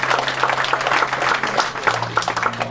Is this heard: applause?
yes